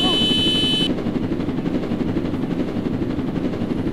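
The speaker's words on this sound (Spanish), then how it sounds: "¡Helicóptero, helicóptero!" A helicopter in a Roblox game thrums with a rapid, steady rotor chop that carries on loud and close throughout, a brief high electronic tone sounding at the start.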